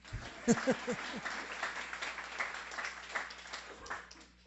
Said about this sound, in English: We can go ahead and clap for them